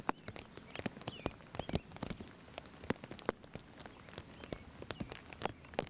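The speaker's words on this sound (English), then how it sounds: "still going quickly with this rain coming" Steady rain falls throughout at an outdoor sporting event, with dense patter and frequent sharp drops striking nearby surfaces, moderately quiet and uninterrupted, with no talking.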